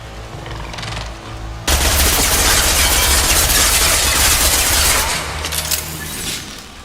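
A hacked defensive turret in Mass Effect 2 opens fire suddenly and loudly, a sustained rapid automatic barrage over a low engine-like hum that tapers off near the end.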